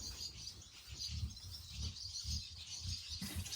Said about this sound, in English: bird mayhem